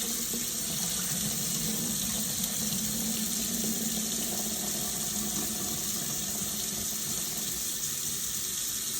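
Tap water runs steadily into a kitchen sink, rinsing freshly drained spaghetti in a colander, a continuous even rush of splashing water heard close up with no talk over it.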